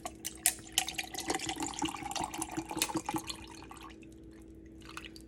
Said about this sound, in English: We're just going to pour in our blueberry iced tea right over that ice.